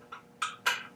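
Socket Y wrench tightening bolts on a Bike Friday folding pocket bike hinge, three short quiet ticking clicks in quick succession.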